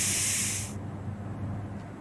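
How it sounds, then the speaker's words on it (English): Spray paint canister hissing in Diesel Brothers Truck Building Simulator while a car is painted: one steady, bright, loud spray lasting under a second, then cutting off to a quiet background. "We've gone through almost the entire spray bottle canister, and we're only to 3?"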